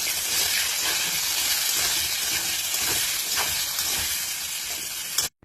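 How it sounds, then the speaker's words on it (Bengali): Cut potatoes fry in hot oil, seasoned with salt and a little turmeric, making a steady, close hiss and sizzle that lasts the whole time before stopping abruptly. "আলুগুলোকে ভেজে নিতে হবে লাল করে"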